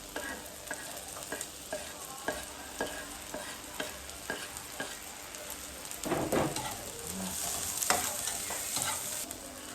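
Onion and garlic sauté in a hot pan with a steady sizzle, broken by scraping stirs and clinks of a utensil, growing louder and busier near the end.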